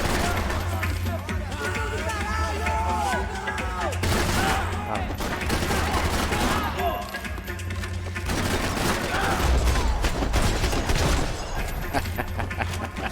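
Rapid bursts of gunfire fill a Max Payne 3 firefight, dense overlapping shots and automatic fire loud throughout, with someone talking over the shooting and game music underneath.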